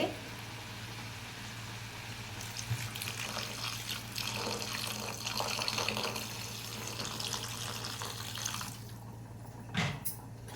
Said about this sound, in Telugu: ఇప్పుడు దీనికి వాటర్ యాడ్ చేసుకోవాలి